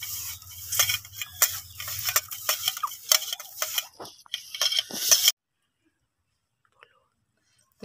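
Salt being stirred and mixed into a pahadi lemon (chukh) chutney outdoors in the sun, giving close, soft scraping and ticking strokes in quick bursts for about five seconds, then silence.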